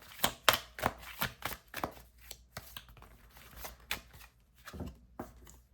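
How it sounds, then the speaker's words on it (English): Tarot cards drawn from a deck: close, quiet flicks and slides of cards arriving in a quick irregular series, with no talking. "I want to grab a couple more cards"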